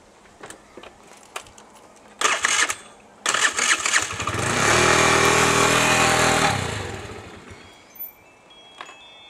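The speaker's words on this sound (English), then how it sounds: "Gonna ride my moped now." A moped engine starts after a few clicks and clunks, then revs up into a steady, fairly loud buzzing drone for a couple of seconds before it fades and cuts off, followed by a few faint knocks.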